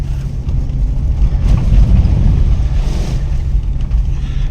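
A Range Rover P38 ploughs through deep water on Braemar Road. A loud, close low engine rumble mixes with rushing, surging splashes that swell midway, along with buffeting wind noise and no speech.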